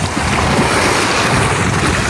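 Sea waves wash steadily at night on the shore at Boljoon, Cebu, a loud, continuous rushing surf mixed with wind noise on the microphone, with no distinct breaks between swells.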